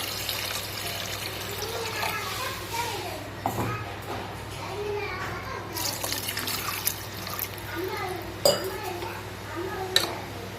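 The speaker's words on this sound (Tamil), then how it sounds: "நான் இன்றைக்கி 3 டம்ளர் தண்ணி எடுத்திருக்கேன். அது இதில் ஊற்றிக்கலாம்." Water splashing and trickling into a pot for tomato rice, with clinks of metal cookware and a voice talking over the running water.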